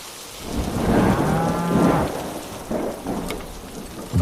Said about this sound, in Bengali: এই তো আবার বৃষ্টি পড়া শুরু হয়েছে